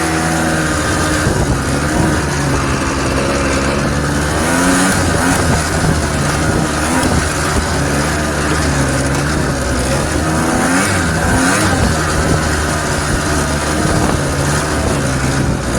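A 1980s utility machine's small engine runs loud and close, revving up and down repeatedly over a steady rough idle for the whole stretch, with no voices.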